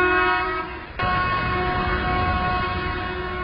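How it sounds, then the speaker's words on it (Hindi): An Indian Railways train sounds a short, loud, steady horn blast at close range, with a brief dip and restart about a second in before holding the tone. "ड्राइवर जब एक छोटा सा हॉर्न दे तो ये पीछे के गार्ड को तैयार रहने का इशारा होता है"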